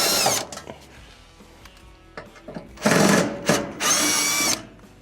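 A power driver backs out Phillips screws from the lower panel of a Whirlpool, KitchenAid or Kenmore range oven, giving several short whirring bursts of motor spin with quieter handling noises between them.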